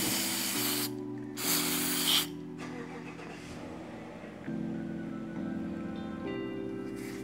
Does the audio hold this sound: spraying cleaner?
yes